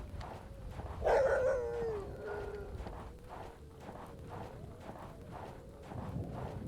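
A dog in the horror video game Terrors To Unveil gives one short bark and whine, followed by soft rhythmic footsteps in the game.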